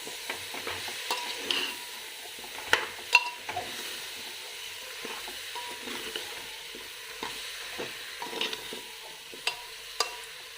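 Sambar masala being stirred in a cooking pan, with intermittent spoon scrapes and knocks against the metal over a low sizzle, fairly close and unaccompanied by talk.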